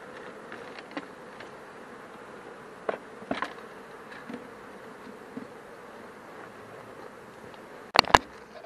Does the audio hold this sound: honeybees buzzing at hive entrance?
yes